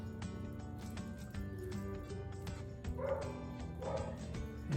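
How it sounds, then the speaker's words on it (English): Dogs bark and yip faintly in the background of a home kitchen, repeated short yelps over a quiet, steady room hum. "You can hear my dogs barking in the background."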